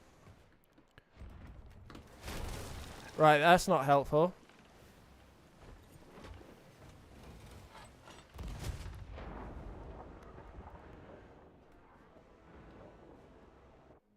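Cannons fire in a ship battle within a video game, a heavy boom with rumbling crackle, then a rapid burst of sharp shots and a later low blast, while someone talks throughout.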